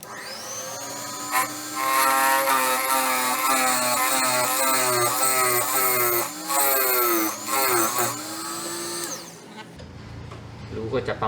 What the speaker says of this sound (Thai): เดี๋ยวเราเจาะขยายเพิ่มหน่อยนะครับ